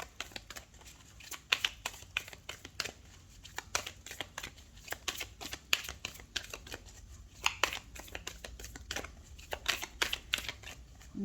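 Tarot cards being cut and shuffled by hand, a close run of quick, irregular papery riffles and slaps with short pauses between bursts.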